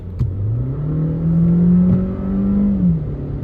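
A 2025 Mercedes A180 in sport mode accelerates with a steady, rising engine drone that climbs in pitch, holds, then drops as it shifts, close and clear with no talking.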